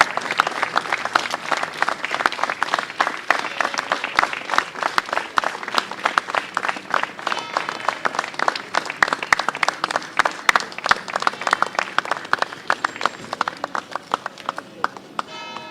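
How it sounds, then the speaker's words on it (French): Loud, sustained applause from a large crowd at a funeral in a church, a dense steady clatter of clapping that continues throughout. "Sous les applaudissements."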